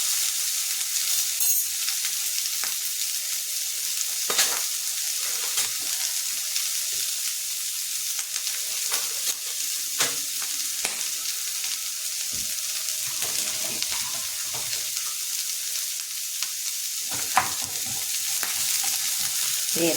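Onions frying in a pan over a low flame, a steady soft sizzle running throughout with occasional stirring clinks and scrapes, no one speaking.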